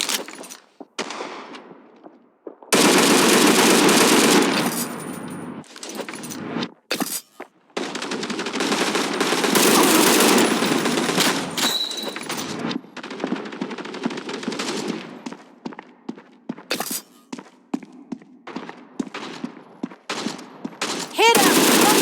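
An MG30 machine gun fires in the World War Heroes video game in loud, rapid bursts of varying length separated by short silences, with sharp clicks between bursts and faint game chatter in places.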